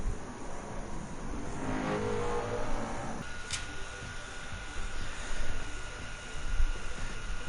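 Hyundai Elantra racing engine in a Gran Turismo 7 one-make race at Rebel Ring, a steady droning roar with a brief sharp whine partway through, continuous and fairly loud throughout.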